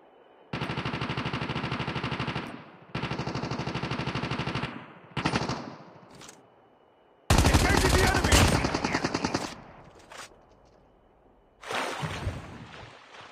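Automatic gunfire in Call of Duty Mobile battle royale comes in long, loud, sustained bursts of rapid shots, separated by short pauses. A heavier, denser volley arrives near the middle, and a final burst comes near the end.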